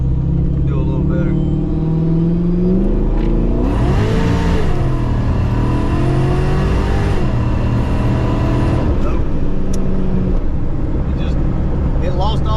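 A Carbon Fox sports car engine revs hard and climbs in pitch, quickly hitting the rev limiter, dips between gear changes, then winds up again, loud and close throughout, on a road.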